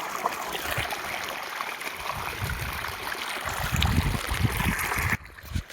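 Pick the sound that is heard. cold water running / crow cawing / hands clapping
cold water running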